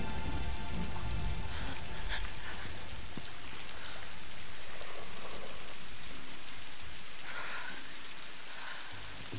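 Steady video game rain in Tomb Raider pours down, a dense hiss of drops spattering on surfaces with no voices, swelling slightly in the middle before easing off.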